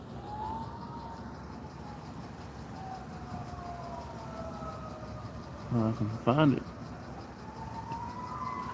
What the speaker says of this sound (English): There they come. There's the sirens.